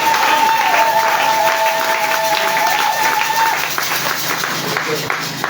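A church congregation applauds in a dense, loud wash of clapping. Sustained tones ring through it, and the applause holds steady before easing off slightly toward the end.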